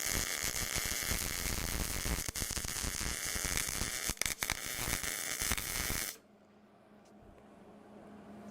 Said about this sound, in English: So I'm going to put on my hood here, and we'll start welding up the bottoms here.